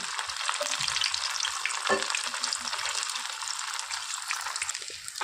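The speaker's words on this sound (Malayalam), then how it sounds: "നമ്മളിത് അവിടെ ഫ്രൈ ആക്കാനായിട്ട് ഇട്ടുണ്ട് കേട്ടോ ഒരു മീഡിയം ഫ്ലെയിമിൽ ഇട്ടിട്ടാണ് കേട്ടോ നമ്മളത് ഫ്രൈ ആക്കി എടുക്കണേ" Rava snack deep-frying in hot oil over a medium flame, a steady close bubbling sizzle that holds level throughout with a few soft stirring knocks.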